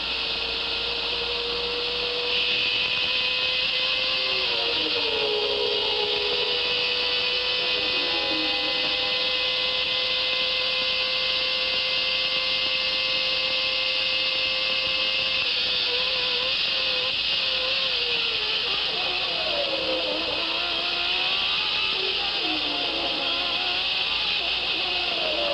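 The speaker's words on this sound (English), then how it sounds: "You're on board with the race leader, Ayrton Senna. Let's listen to the sound and keep your eye on that tire on the right front corner" Onboard with the race leader in a 1990 Formula 1 car at the Mexican Grand Prix, the engine screams continuously at high revs, pitch rising and dropping through gear changes over steady wind and road roar.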